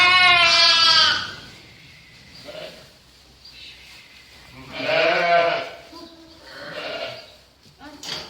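Sheep and lambs bleat loudly and close by in repeated wavering calls, with quieter bleats between, while a person talks in the background.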